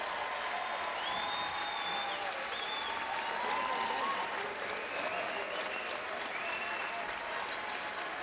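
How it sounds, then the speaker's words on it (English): Crowd applause and cheering at the Patriot League lacrosse final between Lehigh and Colgate, a sustained ovation for departing seniors, with whistles and shouts rising over the steady clapping. "Sam Thompson, too, going to get an ovation here"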